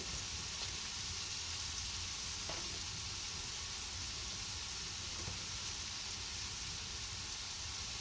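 Mushrooms dropped into a hot pan give a continuous hissing sizzle that holds steady and even throughout, with a few faint taps over the frying.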